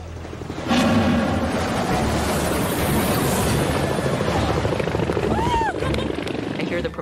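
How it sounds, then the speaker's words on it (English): Helicopter rotor noise heard up close during a cooking competition, a loud continuous rumbling whoosh with thudding blade pulses that starts abruptly and holds steady, a voice briefly audible beneath it. "I hear the propeller noise, I feel the dust, the wind."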